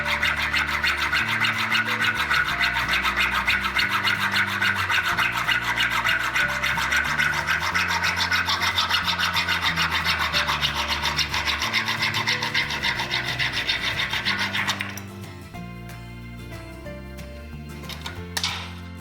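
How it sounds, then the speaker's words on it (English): A hacksaw cuts MI cable to a square end, its blade rasping in fast, even back-and-forth strokes close up for about fifteen seconds before stopping, followed by faint handling clatter. "So to do that, I'm going to use my hacksaw."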